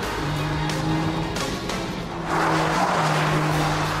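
A BMW 1 Series M Coupe revs hard as its tires squeal and skid in a power slide, the engine note loud and close, rising into a sustained screech in the second half.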